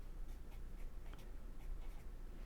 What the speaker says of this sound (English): this is how you write out the address